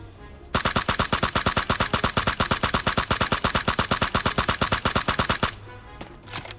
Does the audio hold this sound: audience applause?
no